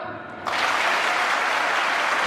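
A college-day audience bursts into loud clapping after a brief quieter moment, the sound jumping to a dense, sustained roar of many hands close by.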